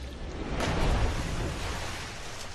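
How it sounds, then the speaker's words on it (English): Water ambience on the river Ganges: a steady, broadband wash of moving water with a windy, surf-like hiss, swelling slightly early on and then holding even, with no voices. "Morgan, now we are at the river Ganga."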